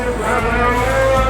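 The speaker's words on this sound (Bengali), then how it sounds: "পালের গরু।" A cow lets out one long, loud, low moo close by at a cattle market, held for the whole moment.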